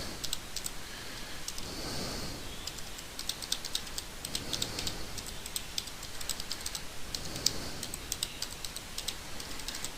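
Rapid, quiet clicking of a computer keyboard as a website address is typed, with irregular bursts of keystrokes and short pauses.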